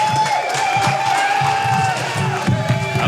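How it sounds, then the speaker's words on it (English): An open mic comedy night audience claps and cheers for a comedian, with scattered whoops and applause over crowd chatter and a voice speaking. "So start clapping right now for Leon, everybody!"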